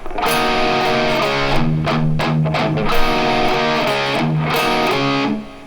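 A distorted electric guitar plays a chugging riff, repeated chords, loud and close, with no voices.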